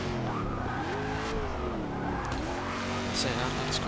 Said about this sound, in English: I just crashed into a wall